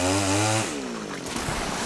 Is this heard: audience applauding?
no